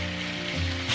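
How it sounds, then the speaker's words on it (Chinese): Marinated chicken, coated with a little starch, sizzles in a small amount of oil in a frying pan over medium-high heat, a steady crackling hiss that swells briefly near the end. "平底锅里面我们来少许油就好，然后把腌制好的鸡肉放上去"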